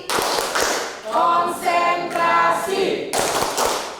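A group claps in short bursts nearby, with chanted Indonesian voices in between, the claps falling into a quick shared rhythm of a concentration clapping game.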